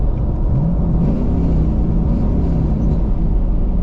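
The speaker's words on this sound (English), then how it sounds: "if I put it on 6th gear, which is the ultimate drone test, there is a little bit of drone" Low, steady exhaust drone from a Chevrolet Camaro SS with a performance exhaust cruising in sixth gear with the valves closed, a constant loud hum from inside the car.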